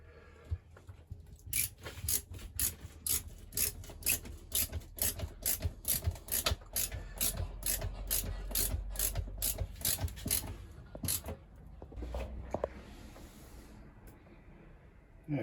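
Black screws are driven into RV motorhome woodwork in a rapid, ratcheting burst of mechanical clicks from a close driver, running for about ten seconds before trailing off.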